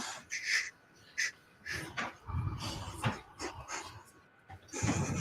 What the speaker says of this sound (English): you can hear some breathing in this short clip